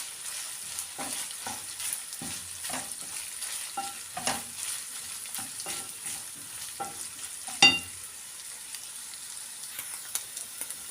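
Minced meat, onions and peppers sizzling in a pan, with repeated scraping stirs at a steady rhythm and one sharper clatter near the end.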